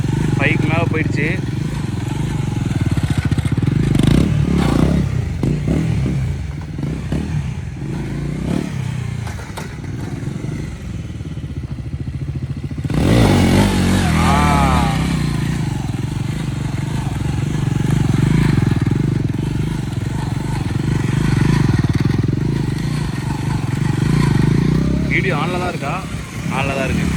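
A motorcycle engine drones loudly and steadily through a freestyle stunt riding dead spin, with scraping and clattering noises and a surge of revving partway through, while voices mix in the background.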